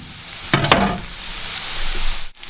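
Red onions and garlic frying in a pan, a steady close sizzle with a couple of sharp stirring scrapes near the start and a brief clatter near the end.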